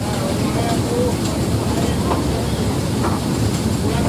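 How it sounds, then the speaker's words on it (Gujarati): The Matheran toy train rolls steadily through forest, a continuous rumbling rush of wheels and carriages heard from on board, with a voice speaking over it. "અહીંયા ખૂબસૂરત જંગલની સાથે આપણી ટ્રેન જઈ રહી છે"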